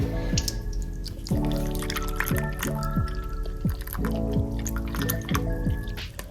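Milk pours steadily into a container on a kitchen scale, a continuous liquid gurgle with rising glugging pitches as the vessel fills, close and moderately loud with no talk.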